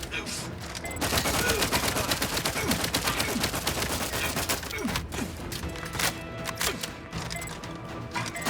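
Rapid gunfire in the shooter video game The Outer Worlds 2, a dense, loud, sustained fusillade of overlapping shots with a few heavier cracks near the end.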